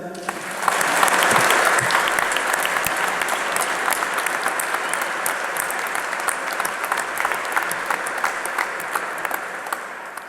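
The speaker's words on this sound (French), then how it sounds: "On peut les applaudir." A congregation at a Christmas night Mass applauds the nativity play actors, a full, sustained burst of clapping that swells early, then holds steady and slowly thins out over about ten seconds.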